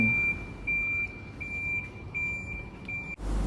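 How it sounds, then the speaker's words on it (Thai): The warning beeper on a battery-powered electric forklift sounds a series of about six evenly spaced, shrill electronic beeps over a low background hum, ending abruptly. "ตรวจสอบสัญญาณเสียงหรือแสงไฟเตือน"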